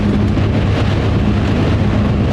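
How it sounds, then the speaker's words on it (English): Heavy, blinding rain pounding steadily during a wet, windy run in New Jersey, a loud dense roar with a low rumble underneath and no pauses. "This is blinding rain."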